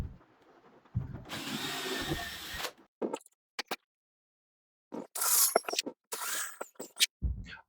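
A power drill bores pilot and countersink holes into a wooden piece: a loud whirring burst for about two seconds, then short clicks and knocks, followed by another brief rough drilling run and scattered handling sounds.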